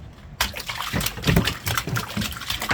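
A live crab thrashing and splashing in a container of water at a Jaffna beach fish landing, making fairly loud, continuous irregular sloshes and splatters that start abruptly after a brief quiet moment.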